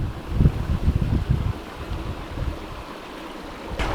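Creek water flowing outdoors at a gold prospecting spot, a steady low rushing wash mixed with wind buffeting the microphone, louder in the first second and a half, then settling into a quieter continuous flow.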